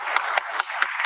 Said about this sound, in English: He's clapping so hard.